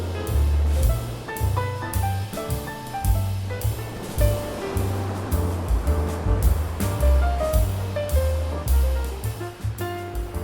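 Ocean surf breaking on a beach at high tide in high winds, a loud, continuous rumbling wash with surging swells and gusty buffeting up close, no voices heard.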